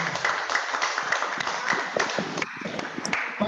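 Steady applause from an audience at a community gathering with joint prayer and an anti-drug talk in Ngronggo, a dense, continuous patter of many hands clapping throughout.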